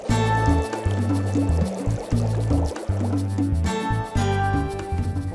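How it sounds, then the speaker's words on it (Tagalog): Chicken stock pours into a pot of Filipino corn soup with grated corn, a liquid gurgle and splash heard close under loud background music. "Saka ito sasabawan at lalagyan ng ginadgad na mais."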